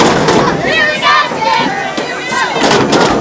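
Big home crowd at a Cohassett boys' soccer game cheers loudly, a continuous roar of many voices with sharp shouts and swells, no single voice standing out.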